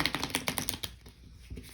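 Tarot cards are shuffled close by, giving a quick run of crisp, rhythmic riffling clicks that tail off into a pause and then a couple of soft taps, with no talking.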